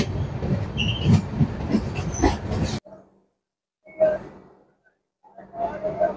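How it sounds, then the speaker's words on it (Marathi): A Jan Shatabdi Express on the Konkan Railway rolls into Chiplun station with rumbling wheels and clattering cars. The noise cuts off abruptly and then comes back in a few short bursts. "फायनली आपली गाडी आता एंटर करत आहे चिपळूण रेल्वे स्टेशनला."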